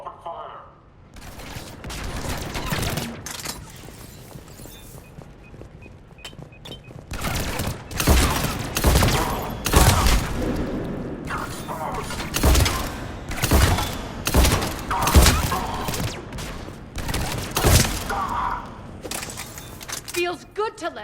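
Gunfire in Mass Effect 3 Legendary Edition: loud, repeated bursts of shots with heavy thumps and rattling weapon fire, building from scattered shots into dense volleys, with voices now and then under the fighting.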